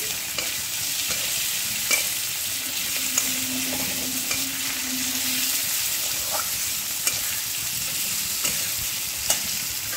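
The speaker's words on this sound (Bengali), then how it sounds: "চালটাকে ভেজে নিলাম অল্প। টমেটোটা দিয়ে দিলাম" Rice and tomato fry in a pan with a steady, crackling sizzle, broken by occasional clicks and scrapes of stirring, with no voices.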